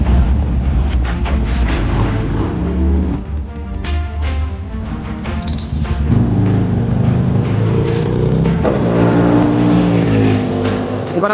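Harley Davidson race motorcycles at Sepang circuit roar continuously, loud and close, with engines revving up and down and overlapping as bikes rise and fall in pitch.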